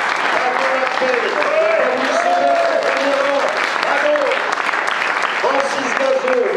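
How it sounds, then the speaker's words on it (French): Audience at a French civic gathering applauding steadily as officials are announced, a dense crowd clapping throughout, loud and close, with a voice speaking over the applause. "vous pouvez les applaudir"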